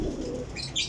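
Flying pigeons at a pigeon dealer's point give a soft, low cooing up close, a brief murmur with faint chirps above it and no voices.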